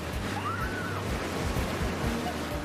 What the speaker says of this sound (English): And just enjoying the waves.